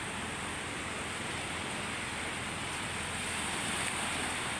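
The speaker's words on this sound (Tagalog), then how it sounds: "Malakas po ang hangin." Strong wind blows steadily at the seashore, a dense, even roar of broadband noise that may carry surf, loud and continuous throughout with no voices.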